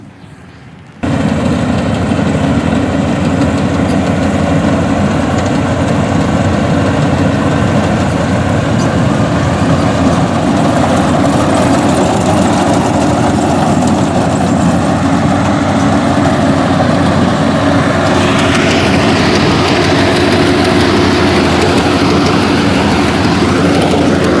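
The engine of a paddy harvesting machine runs steadily in a rice field, a loud continuous droning rumble that starts abruptly and holds at an even level throughout.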